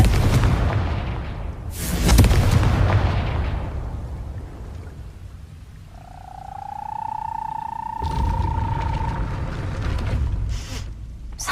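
A Confringo fire spell blast in Hogwarts Legacy, loud booming bursts early on, then a sustained tonal whoosh and further crackling impacts, with no talking.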